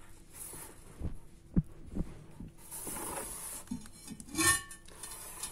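A heavy 22 cm cast-iron cooking pot being unpacked, with scattered close thumps, rustling packaging and a metallic clink, fairly quiet.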